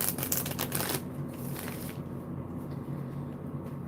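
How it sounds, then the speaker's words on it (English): Tarot cards are shuffled by hand, a fast burst of crisp riffling flutters for the first two seconds, then softer scattered card rustles over a low background hum. "Or just watch me shuffle cards."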